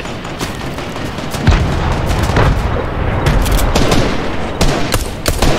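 Gunfire from a Fortnite match, a dense run of sharp shots and booms layered over a constant wash of game noise, with louder bursts clustered near the middle and end.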